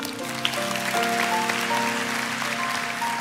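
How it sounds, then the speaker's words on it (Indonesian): A church congregation claps in praise during a sermon, a moderate wash of applause under sustained keyboard chords and held musical tones. "Kasih tepuk tangan untuk Tuhan"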